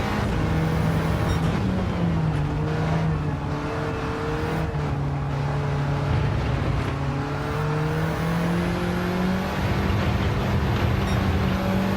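A Volkswagen Golf in Gran Turismo 7 drives at speed. Its engine drones loud and constant, the pitch rising and falling through the revs with a whirring road noise underneath.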